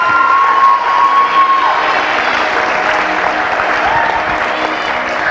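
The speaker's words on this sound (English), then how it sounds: "A big round of applause for Taya Douglas." At the 2017 Fostoria Glass Pageant, a crowd gives a loud, sustained round of applause mixed with scattered cheers and a brief whistle, dense and close throughout with no pause.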